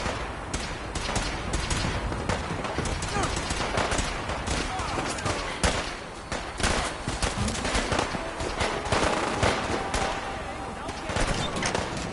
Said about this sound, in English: Going shooting.